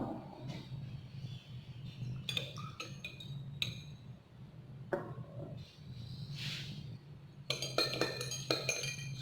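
H2SO4 solution is stirred in lab glassware, making light glassy clinks and taps at irregular moments over a low steady room hum, with a brief hiss in the middle.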